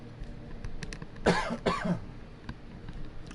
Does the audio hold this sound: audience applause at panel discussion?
no